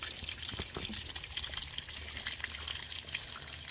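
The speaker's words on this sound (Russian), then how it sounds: "Включаем водичку, набираем лужу" Tap water gushes and splashes steadily, filling a shallow puddle for kittens, a continuous close, moderately loud stream of running water.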